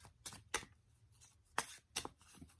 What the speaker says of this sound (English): I'm just getting the yellow deck out here. And I'll give a shuffle.